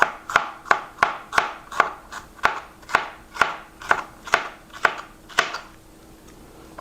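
A kitchen knife chops food on a cutting board while Mexican rice and barbecue salmon are being made, giving about fourteen crisp, evenly spaced cuts at a steady rhythm, close and clear, with no talk.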